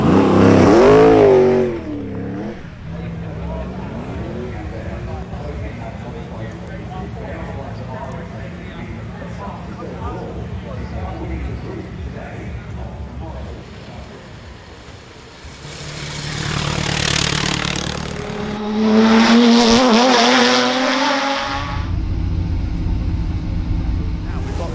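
A Nissan HR31 GTS-R Skyline touring car climbs the Goodwood Festival of Speed hill: a loud engine drone that idles and rumbles steadily, then revs hard and rises in pitch as the car accelerates away near the end.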